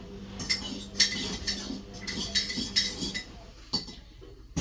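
A metal spoon clinks repeatedly against a cup while stirring tea, several quick stirring taps and rings in an irregular rhythm, close by.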